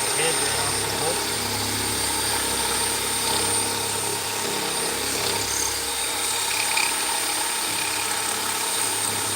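Steady, continuous grinding whine of a power drill bit boring out a bolt head set in fiberglass on a Bradley GT II kit car, close and fairly loud throughout with no pauses.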